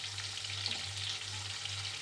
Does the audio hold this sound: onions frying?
yes